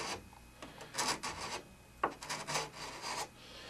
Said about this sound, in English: I don't have to go digging and scraping too hard in the wood either